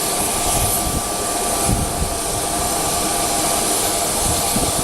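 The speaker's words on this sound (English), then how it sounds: "That's a cool plane." Jet airplane at Aurora Municipal Airport roaring loudly and steadily, a close, sustained engine drone with broad rushing noise and no talking.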